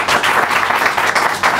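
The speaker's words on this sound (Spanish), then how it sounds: "quiero pedir otro fuerte aplauso para Jorge Giorgia" A comedy show audience applauds a guest at a live stand-up event, steady dense clapping filling the room for a short burst, loud and close throughout.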